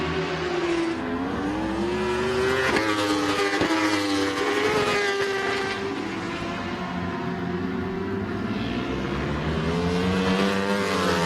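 An EBR 1190 RS superbike races at Road America in an AMA Pro Superbike event, its loud engine howling and rising through gear changes with several sharp shifts, other bikes droning alongside.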